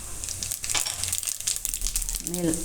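Cumin seeds sizzle in hot oil as they drop into the pan, with a crackly, uneven frying sound close by. A voice speaks briefly near the end.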